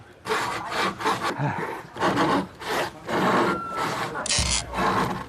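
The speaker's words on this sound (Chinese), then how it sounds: "但现在这锯起来效率很低啊" Rhythmic back-and-forth rasping of a blunt hand saw cutting through wood on a table, several steady strokes close by, ending with a brief mechanical whine.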